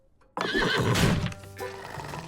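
A horse neighs loudly and close by, a rising whinny that drops into a shuddering tail, with a faint clop of hooves.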